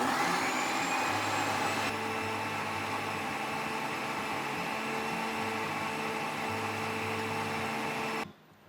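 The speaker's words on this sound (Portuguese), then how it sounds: "E aí eu vou bater bem esses ingredientes aqui no liquidificador." A blender whirs loudly as it purees apple batter for gluten-free biscuits, a steady close motor drone running for about eight seconds before cutting off abruptly.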